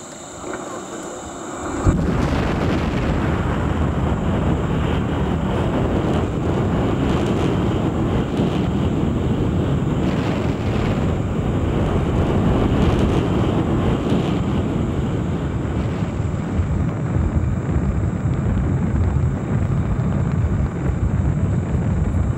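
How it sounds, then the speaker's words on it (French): A deep, continuous roar from an Ariane 5 rocket's Vulcain engine and two boosters at liftoff in French Guiana erupts suddenly and holds loud and steady, rumbling broadband thunder that fills the air without letup. "Ariane 5 a pris son envol, vous l'avez vu successivement, le moteur Vulcain et les 2 boosters"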